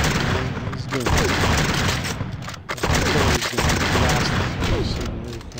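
Dense volleys of cannon booms and rifle fire from a Civil War video game crackle and crash almost continuously, loud and close, with a brief gap midway and a voice talking over part of it.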